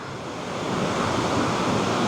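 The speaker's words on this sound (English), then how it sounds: "It's a 45-foot waterfall." Roar of a 45-foot waterfall at Little River Canyon Falls on Lookout Mountain, a steady broadband rush of falling water that swells slightly and holds constant, heard alone with no voices.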